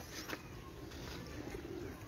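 Champion pigeons of the 2022 Jeth competition coo faintly amid a steady, noisy background hiss, with soft repeated low calls.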